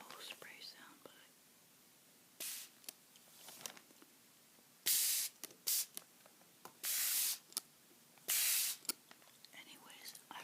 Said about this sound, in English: I really love spray bottle sounds.